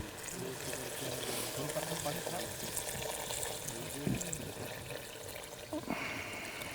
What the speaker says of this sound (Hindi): ये लीजिए सर, डाल दिया पानी।